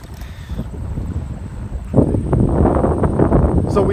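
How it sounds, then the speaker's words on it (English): Strong outdoor wind buffets the microphone during a charity walk, a rumbling low roar that swells sharply about halfway through and stays heavy to the end, with no speech. "It's awfully windy."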